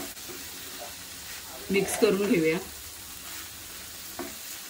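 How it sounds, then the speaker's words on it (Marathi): Dry shrimp cooking in a pan with fresh coriander, sizzling and frying steadily while being stirred, with a person talking briefly over the sizzle. "आता आपण कोथिंबीर घालूया. चांगले मिक्स करून घेऊया."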